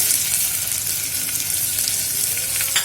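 A cup of onions frying in hot oil for chicken biryani, producing a loud, close, continuous sizzle with crackling throughout.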